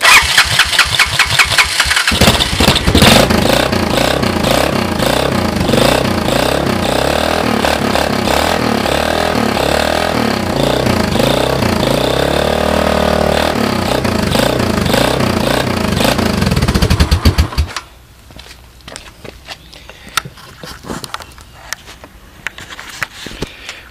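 A Honda ATV with a modified CDI ignition cranks and fires, then runs at a loud, steady idle for about fifteen seconds before cutting off, leaving quiet clicks and faint noise afterward.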